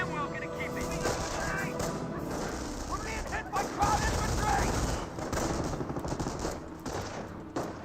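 MG42 and .30 cal machine guns rattle in a Company of Heroes battle, medium-distance bursts mixed with explosions and battlefield clutter, while a voice talks over the action throughout.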